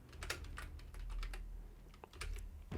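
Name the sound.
typing on a computer keyboard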